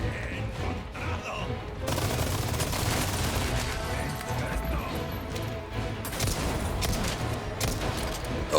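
Machine-gun fire from an enemy turret gunner in Resident Evil 4 Remake, a dense continuous stream of shots with crashing impacts, steady and fairly loud throughout.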